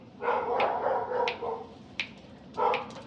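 Several dogs bark at home in short, fairly distant bursts, about four yaps over a few seconds, with no talking over them.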